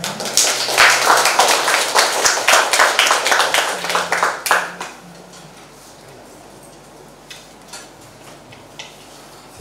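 Audience applause at the close of a Catholic scripture course session, a burst of brisk, uneven clapping for about four seconds that quickly fades to quiet room tone with a few stray claps.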